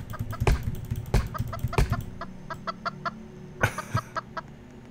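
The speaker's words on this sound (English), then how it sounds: "It's just a chicken. It's a lot of chicken noises" Video game chickens in Roblox Lumber Tycoon 2 cluck in short, irregular bursts, some sharp and close, others softer, with brief pauses between the calls.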